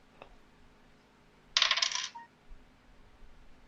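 Dice rattle and clatter on a tabletop in one short burst, loud and near, after a brief tap and with quiet room tone around it.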